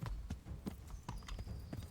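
Horse hooves clip-clop at a steady gallop-like rhythm while riding in Kingdom Come: Deliverance, sharp repeated thuds close and fairly loud with no talk over them.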